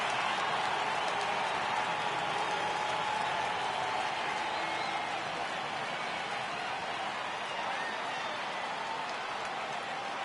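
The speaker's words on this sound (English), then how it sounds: "Crowd gets up for the 3-2." A baseball stadium crowd at a Jays–Rays game keeps up a steady, broad roar of cheering and noise that holds level the whole time, with no clear announcer voice coming through.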